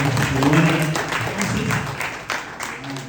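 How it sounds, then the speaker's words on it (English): Applause from a crowd fills the room, steady dense clapping that fades slightly, with a voice faintly mixed in. "Can we clap our hands for the wonderful"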